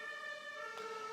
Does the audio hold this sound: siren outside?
yes